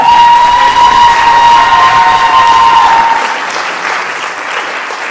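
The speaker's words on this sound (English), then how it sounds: "I just want you all to give yourselves a round of applause" Audience applause at a community learning center graduation and awards ceremony: dense, loud clapping that holds steady for about three seconds and then thins and fades, with a sustained tone ringing over it at first.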